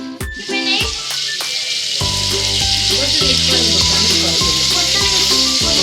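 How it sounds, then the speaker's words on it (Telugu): Eggs frying in hot oil in a kadai give a loud, steady, close sizzle that fills the whole stretch, with a few clinks and knocks of a utensil striking the pan over the top. "కొంచెం మళ్ళీ పెట్టుకొని గుడ్లు ఫ్రై చేసుకోవాలి"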